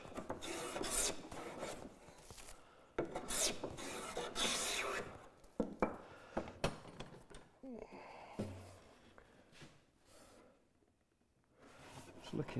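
Hand plane with the iron backed off, taking fine shavings from the edge of a wooden door: irregular rasping strokes, close and moderately quiet, with someone talking between strokes.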